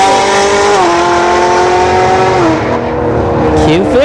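Infiniti Q50 launching down a dragstrip at a test-and-tune event, its engine rising in loud, steady revving pitch through gear changes, with crowd or commentator voices underneath.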